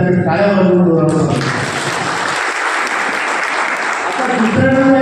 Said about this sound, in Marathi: त्याबद्दल आपण त्यांच्या टाळ्या वाजवून